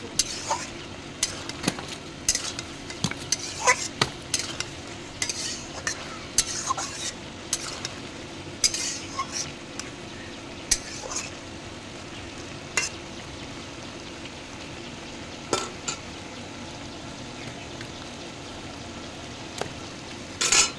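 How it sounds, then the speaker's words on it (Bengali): Ginger and garlic frying in a pan, a continuous soft sizzle broken by repeated clinks and scrapes of a spatula stirring against metal, close by with no talking. "আদা রসুন দিয়েছি, দিয়ে ভাজছি।"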